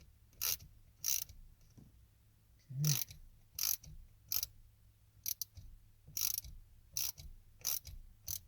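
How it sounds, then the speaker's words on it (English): A hand ratchet clicks through about a dozen quick, sharp bursts of pawl ticks while a fastener is tightened during a car cruise control install. The bursts come in uneven strokes, close and fairly quiet, with no talk. "use the ratchet"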